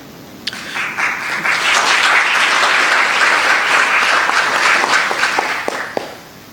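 An audience applauds loudly and continuously for several seconds, a dense wash of clapping that swells and then tapers off.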